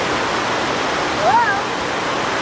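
Waterfall at Stinging Fork Falls on a hiking trail, a constant broad roar of falling water filling the scene, with a brief high-pitched voice rising over it.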